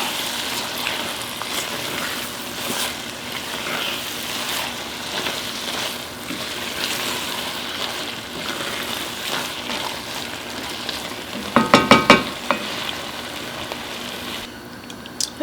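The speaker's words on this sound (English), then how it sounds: "just mix that in, cook that a minute" Garlic and peppers sizzle steadily in a pan for Hungarian goulash, a constant frying hiss with soft stirring scrapes, plus a brief cluster of sharper clinks and knocks toward the end.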